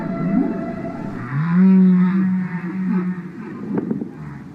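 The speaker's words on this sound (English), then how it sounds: "a living animal making some kind of call. It has these incredible deep tones that rise up into these strange, almost falsetto type notes." A humpback whale's song: deep, loud tones that swell and glide upward into strange, high falsetto-like notes, with a long sustained moan in the middle and no other sounds.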